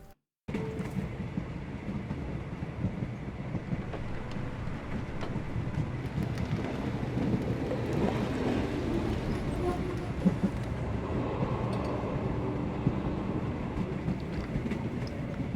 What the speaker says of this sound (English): If we hurry, we can still catch tonight's train.